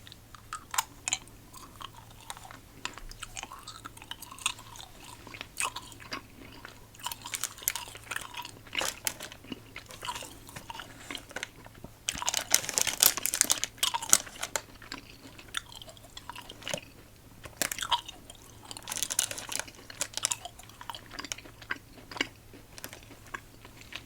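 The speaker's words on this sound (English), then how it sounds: "good crunch, good chew" Someone chews fall and Halloween themed candy right at the mic, with a sustained run of crunches and moist chewing that grows louder and denser midway, with no talking.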